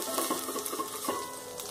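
Turmeric and spices frying in a pan for chicken rolls, a steady close sizzle with faint stirring scrapes running through the short stretch, no voices.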